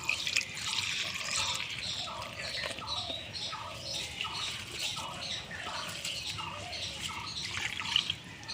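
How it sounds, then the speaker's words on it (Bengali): Raw rice being washed by hand in a bowl of water, with rhythmic sloshing and squishing as the grains are rubbed, close and steady, with light dripping and a faint bird sound in the background. "হাত দিয়ে কচলে কচলে ভালো করে ধুয়ে নেব।"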